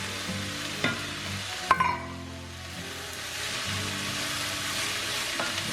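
Celery sautéing in a pan with red onion and yellow squash over medium heat, giving a steady close sizzle with a few sharp clinks and stirring scrapes, no talking.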